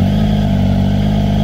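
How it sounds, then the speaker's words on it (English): A Triumph Tiger three-cylinder motorcycle engine runs close and loud, a steady, dense mechanical drone with no speech over it. "The other thing I like about the engine is obviously the sound."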